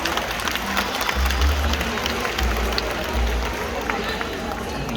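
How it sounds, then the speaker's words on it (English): Zoo show audience at Mandai Singapore Zoo giving a round of applause after a rainforest animal segment, moderate scattered clapping and crowd murmur in an outdoor setting, fairly steady throughout. "How about a round of applause?"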